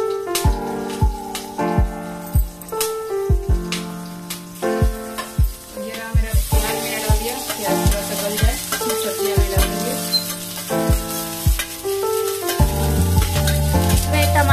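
Onions fry in a pan for vegetable chowmein, giving a continuous loud sizzle broken by repeated scraping stirs, close up and uneven in rhythm over about fifteen seconds.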